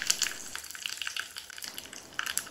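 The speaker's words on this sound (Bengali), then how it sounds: "তেল গরম করে নিয়েছি, দিয়ে দিচ্ছি 2টো শুকনো লঙ্কা, 1 চামচ সর্ষে আর কিছুটা কারি পাতা" Dry red chillies, mustard seeds and curry leaves crackle and sizzle steadily in hot oil for a tempering, a close, bright spitting hiss with small pops scattered throughout and no voices.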